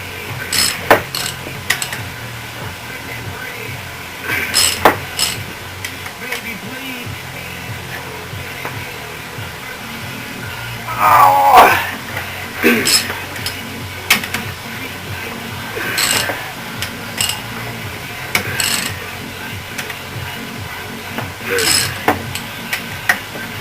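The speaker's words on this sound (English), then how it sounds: "Now watch how hard it is going to be to take these bolts off." Engine bolts come off a 1980 Ski-Doo 464 snowmobile motor under a hand ratchet, with repeated short clicking bursts spaced through the clip, close and moderately loud over a low background hum.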